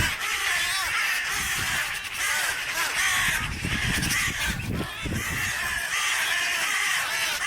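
A crow mobbing a sparrowhawk that had attacked a jackdaw caws loudly and repeatedly, harsh calls coming close together over outdoor noise.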